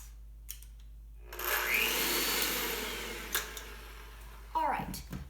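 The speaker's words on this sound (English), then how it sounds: "then turn the mixer on just so you can get the stuff off" Electric stand mixer whirring up to speed for a few seconds, then slowing back down under a steady mains hum, with faint knocks and a voice talking near the end.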